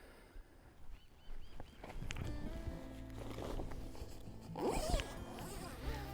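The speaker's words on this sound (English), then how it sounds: "So just undo the zip completely." Zipper on an OzTent screen house tent being undone, a few short rasping pulls close by outdoors, followed by a longer louder zip near the end.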